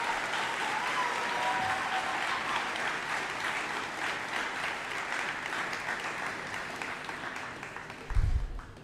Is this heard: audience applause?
yes